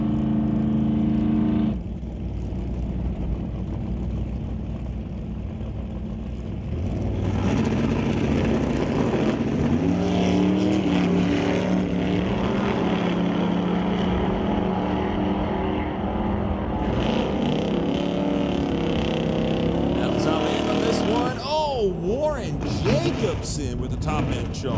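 Drag race launch with a Chevy II against a Plymouth Barracuda, loud engines roaring continuously, revving and pulling away down the strip, with crowd or announcer voices underneath.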